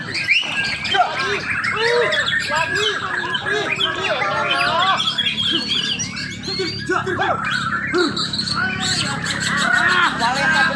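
A murai batu (magpie robin) sings a rich, varied stream of whistles, trills and chirps, loud and close, almost without pause, with other bird calls and voices mixed in behind.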